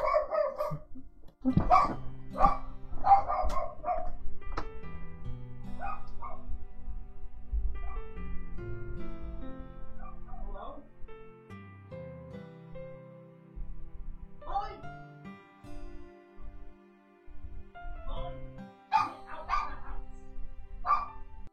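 A grandmother's dog barks indoors in a few sharp, loud bursts near the start, then again more sparsely later, over a fairly steady stretch of a person talking.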